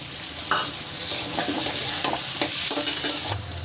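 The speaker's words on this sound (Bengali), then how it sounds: "টমেটোটা একটু পরে দেব আর একটু ভাজা ভাজা হোক কড়াইশুটিগুলো একটু ভাজা নরম হয়ে যায়" Green peas and tomato sizzle in oil in a kadai while a spoon stirs and scrapes, a steady close frying hiss broken by repeated sharp scraping strokes.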